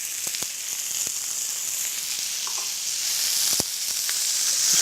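Onions with garlic puree and dried thyme sizzle steadily in a pan while being turned, a close continuous hiss broken by a few scraping knocks of the utensil, with no talking.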